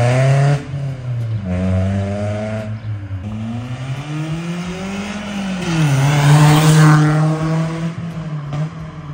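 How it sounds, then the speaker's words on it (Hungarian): Project race car, an old road car being built for racing, revving hard as it drives down a residential street, engine pitch climbing and dropping through several gear changes, loud and close with no talk. "Nincs olyan nagyon rossz hangja, és rohadt jól megy a kocsi."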